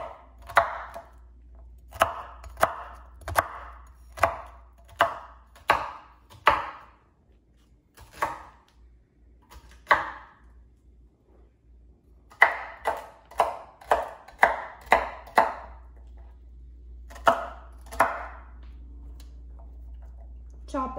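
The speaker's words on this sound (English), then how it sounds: "you're going to get your celery and cut that as well, but you're going to flip it over so it's easier to cut" Knife chopping celery on a cutting board, a steady series of sharp, close knocks in two bursts separated by a brief pause, with a low hum underneath.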